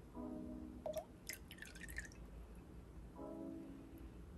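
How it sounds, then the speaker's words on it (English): Fragrance oil poured into water for a homemade room spray gives a faint, quiet trickle with a few soft drips and splashes, brief and close. "Now I'm just going to pour the fragrance oil in and stir"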